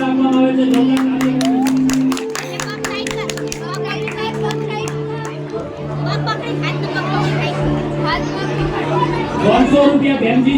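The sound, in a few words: audience applauding loudly for donors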